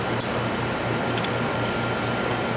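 Vacuum running on a K&S 4124 wire bonder: a steady, close mechanical hum with a low, evenly pulsing drone and a few faint ticks, continuous and without any talking.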